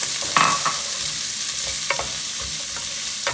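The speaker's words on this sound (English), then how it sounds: "So my oil is hot, so I'm going to put in my onions." Chopped onions going into hot oil for a spicy cabbage soup give a steady, close sizzle with scattered crackles and light stirring scrapes, and no one speaks.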